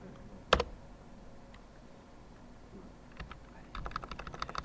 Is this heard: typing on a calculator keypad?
yes